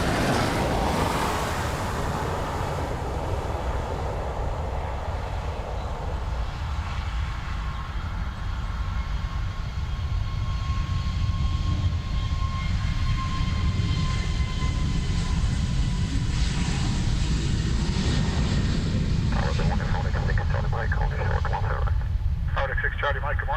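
An airplane at Dublin Airport heard as a loud, sustained engine roar and broad rumble that lasts the whole stretch, with a radio voice and talk mixed in.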